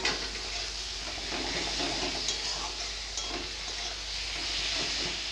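Chopped tomato with turmeric, cumin and coriander powders frying and being stirred in a pan for a Bengali muri ghonto, a steady close sizzle with scraping spoon strokes throughout.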